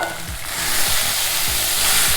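Curry leaves hiss and crackle in hot tempering oil for an avval (flattened rice) upma, a steady loud sizzle with a few sharp pops, close and alone.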